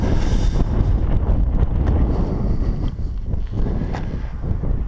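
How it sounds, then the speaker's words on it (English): Steady, loud wind buffeting the microphone, a low rumbling roar that keeps going without a break. "it also happens to be windy"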